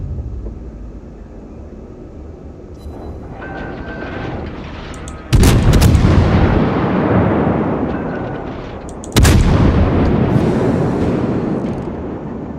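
Heavy 203 mm naval guns fire in World of Warships from a New Orleans cruiser, two huge booming salvos several seconds apart, each rolling and decaying slowly over a constant low battle rumble, with no voices.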